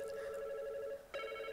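A telephone line connects on a radio call-in show, heard as a steady electronic ring tone that breaks off briefly and then resumes, clear and alone.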